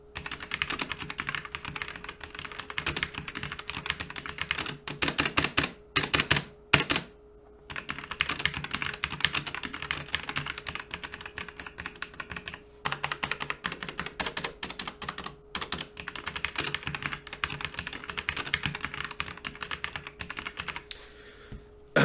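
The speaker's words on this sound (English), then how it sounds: "you get the actual sound of the key switches" Rapid, continuous typing on a Marvo KG962 60% compact RGB mechanical keyboard with red switches, recorded close up, with steady clacking keystrokes broken by a few brief pauses and runs of quick repeated presses.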